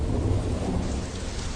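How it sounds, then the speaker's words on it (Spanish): Thunderstorm rumbles low and continuous over heavy rain falling on rocky ground, a dense steady wash with no voices. "Las tormentas azotaban los cielos y la lluvia comenzó a caer sobre la superficie rocosa."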